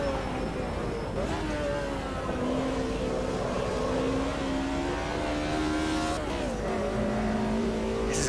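A naturally aspirated touring car races around Bathurst in Automobilista 2, its engine note climbing and dropping through gear changes, loud and close throughout with another car audible at times.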